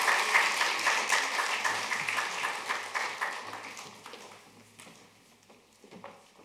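A church congregation at a regional Christmas worship service claps together, the dense applause strong at first and then thinning to a few scattered claps near the end.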